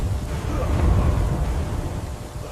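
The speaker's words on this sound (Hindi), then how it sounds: "बारिश आ गई।" A thunderstorm with rain, a deep rolling rumble of thunder swelling and fading over a steady hiss of rainfall.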